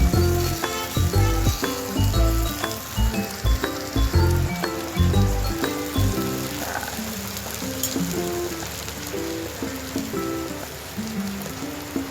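Okra frying in a pan as it cooks on its second side, a steady rain-like sizzle and crackle running throughout with no talk, strongest in the first half before easing to a softer hiss.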